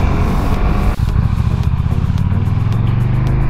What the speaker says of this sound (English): This is the stock can now.